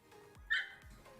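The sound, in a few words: dog Bentley barking out of fear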